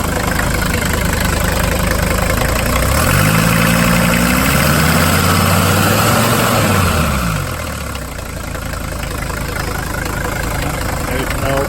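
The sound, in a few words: Mercedes 300CD diesel engine running and vibrating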